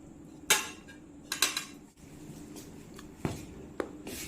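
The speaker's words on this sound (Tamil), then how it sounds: "நல்லா டக்கு டக்கு டக்குன்னு கிளறி விட்டு" A spoon stirs a mixture in a pot, with sharp scattered scrapes and clinks over a low steady background hum and no talk.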